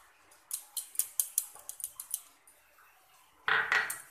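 A spoon whisks sour yogurt in a metal bowl for Bengali katla fish kaliya, a run of quick, close, sharp clinks and scrapes in an uneven rhythm, ending in a louder scraping burst.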